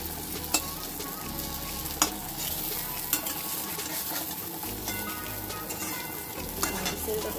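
Eggplant slices frying in a pan in a home kitchen, a steady close sizzle with occasional light scraping and stirring clinks of a utensil, no voices.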